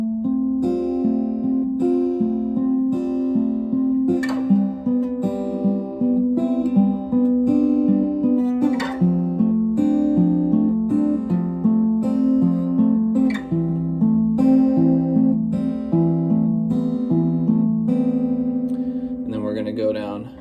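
Acoustic guitar plays a riff, a steady run of picked notes with ringing chord tones, continuous and fairly loud for about twenty seconds.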